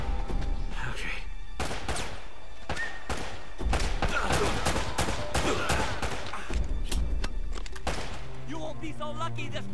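Gunfire and a grenade blast from Uncharted: Drake's Fortune crackle in dense, repeated bursts with heavy thuds throughout, loud and close, ending in a quieter stretch with some tonal game sounds.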